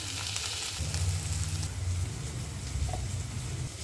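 Green chilies and tomato fry in a pan of oil, a loud continuous sizzle with bubbling crackle and a few stirring scrapes, no talking.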